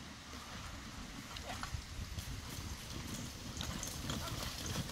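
Horse hooves clip-clop at a carriage driving club event, a faint, irregular patter of hoofbeats under steady outdoor wind and background noise, with someone talking over them.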